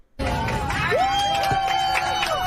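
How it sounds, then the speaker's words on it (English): A crowd on a plane cheering and whooping as a woman is removed, loud and continuous, with a rising shout cutting through the mass of voices. "Yeah, they're cheering for her."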